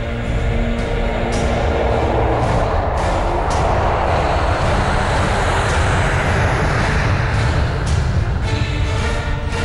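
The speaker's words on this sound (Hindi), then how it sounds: "ये है लाइट कॉम्बैट एयरक्राफ्ट तेजस।" Loud, steady roar of the HAL Tejas, a light supersonic combat jet, in flight, a broad continuous jet noise filling the whole stretch with no talk over it.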